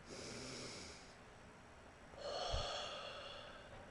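Several deep breaths drawn and released during a voice-training warm-up, soft and close, with a fuller, louder inhale-exhale pair in the second half and no talking.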